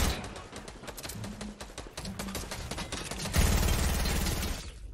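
Rapid gunfire in the Fortnite Battle Royale video game: dense bursts of automatic shots crackle one after another, growing heavier and louder toward the end, with no voices over them.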